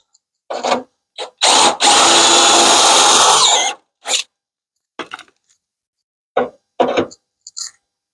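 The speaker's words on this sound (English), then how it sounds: "We're going to drill this out." A power drill bores out a metal transmission-cooler bracket on a Chevy S10 install. There are loud close bursts of drilling, one long sustained whir, then short intermittent spurts separated by silence.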